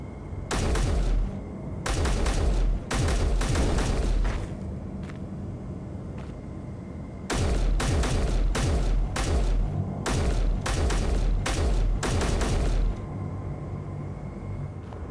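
Gunfire aimed at a turret in the video game Godhunter, loud rapid bursts of shots in several clusters separated by brief pauses, with a low background rumble throughout.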